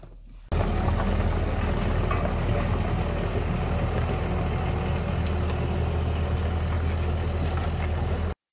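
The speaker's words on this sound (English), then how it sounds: "should we go see the digger, the tractor?" A tractor digger's diesel engine idles at a house restoration site where a foundation is being excavated, a steady, loud low rumble running unbroken for about eight seconds with no talk over it.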